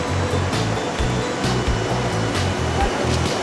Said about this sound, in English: this area has like a little waterfall